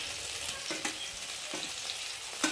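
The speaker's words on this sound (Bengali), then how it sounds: "দেবো একটা টমেটো কুচি দিয়ে মশলাটা ভালোভাবে কষিয়ে নেব" Spice paste of salt, turmeric, ginger, cumin and onion sizzling and frying in a pan, a steady close hiss broken by a few brief stirring scrapes, with no voices.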